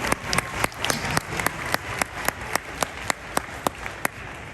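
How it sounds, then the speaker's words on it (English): A modest audience at a middle school beginning band winter concert claps with sparse, distinct individual hand claps in a room, scattered and fairly close rather than a dense roar. "go ahead, you can applaud for that"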